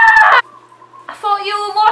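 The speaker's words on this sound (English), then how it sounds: "Do you guys hear the chicken? There's chickens." Chickens cluck and squawk close by in loud, harmonic bursts, two calls separated by a short quiet gap.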